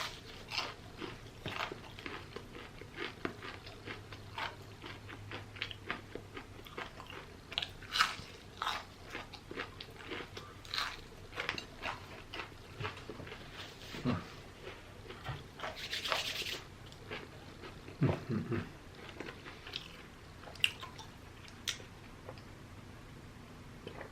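Crunchy onion rings from TGI Fridays being bitten and chewed close to the mic, with repeated crisp crunches and softer chewing in an uneven rhythm over a quiet background, no talking.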